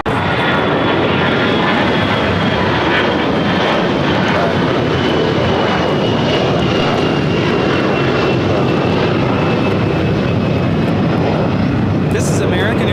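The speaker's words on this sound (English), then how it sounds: "This is American Airlines 1305 taking off to Dallas Fort Worth on the A321" An American Airlines A321 jet takes off at LAX bound for Dallas Fort Worth, a loud, continuous engine roar filling the whole stretch without fading, with people talking over it.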